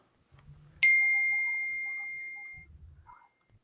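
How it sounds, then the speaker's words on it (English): A single bright bell ding rings out and fades slowly over about two seconds, with soft low murmurs of talk before and after. "Every time I hear that bell, I want to salivate"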